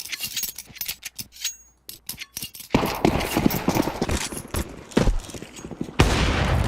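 Counter-Strike gunfire crackles through a professional esports match, with bursts of rapid clicking shots and rattling fire between quieter gaps, then a denser barrage near the end.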